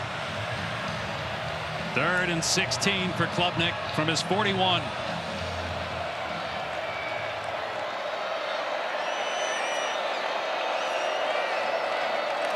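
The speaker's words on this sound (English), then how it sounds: "Crowd coming to life a little bit here on third down" Stadium crowd noise rises around a college football third-down play between Clemson and Wake Forest, a steady broad roar with cheering and whistles, while a commentator talks over it for the first few seconds.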